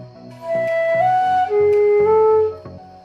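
A side flute blown with too little pressure gives a weak, breathy tone on a few short held notes, close and fairly loud, with soft key clicks between them and no voices.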